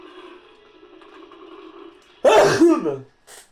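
A single loud, sharp sneeze bursts out close by after a stretch of quiet hum, followed by a brief softer sound.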